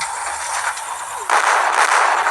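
Cylinder firecrackers exploding outdoors, a dense continuous crackling roar of bursts that jumps louder partway through and keeps rattling steadily.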